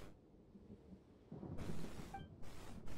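Thunderstorm in the video game Genshin Impact, a low rumbling roll of thunder swelling midway with steady rain and wind noise, moderately loud, no talking.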